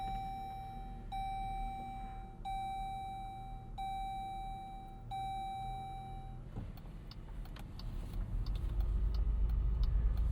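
A 2026 Jeep Grand Cherokee with the Hurricane turbo engine gives several evenly spaced interior chimes, then fires up and settles into a low, quiet idle that swells slightly toward the end.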